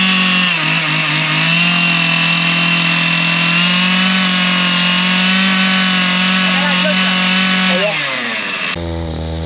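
A small two-stroke engine drones loudly and steadily, its pitch sagging and struggling near the end before cutting off abruptly.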